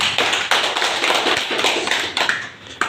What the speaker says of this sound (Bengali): ছোট্ট একটা হাততালি দিন